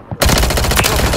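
A burst of rapid automatic gunfire rings out loud and close in Call of Duty, a dense string of shots that begins abruptly after a faint moment and runs to the end.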